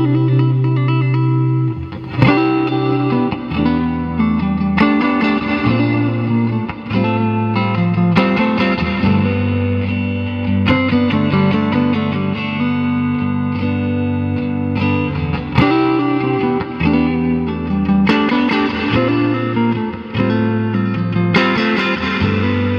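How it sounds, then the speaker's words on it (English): Electric guitar played on the neck pickup of a 1960 Fender Stratocaster in Olympic White, run through a 1967 Fender Deluxe Reverb amp; a loud, steady run of sustained chords and single-note lines with amp reverb, heard alone without talk. "We're going through a 1967 Fender Deluxe Reverb, starting off on that neck pickup."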